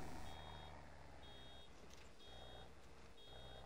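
Baler alarm in Farming Simulator 22 beeping steadily in a repeating pattern over a constant engine and machinery hum, with no talking.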